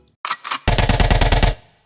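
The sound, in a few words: realistic machine gun synthesized in Serum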